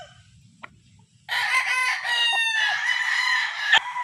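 A gamecock rooster crows once, close and loud, a long strained cock-a-doodle-doo with no talking, after a soft low murmur and a small knock.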